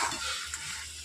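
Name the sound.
stirring crab curry with a spatula in a pan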